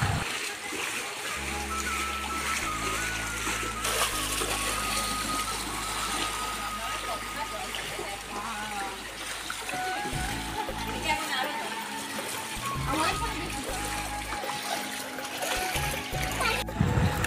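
Several people wade and splash through knee-deep floodwater on a rainy morning in a neighbourhood, with steady sloshing and water noise over a long stretch while people talk nearby and a vehicle hums in the background.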